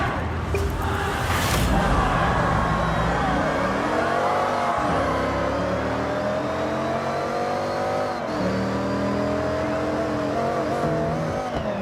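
A race car engine in Forza Horizon revs hard and continuously, its tone climbing through the gears with two clear drops at shifts, loud and close throughout.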